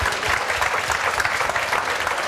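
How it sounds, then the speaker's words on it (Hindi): A classroom group claps together in brisk, dense applause, close and loud throughout the short burst, with no speech over it. "तालियां बजाओ"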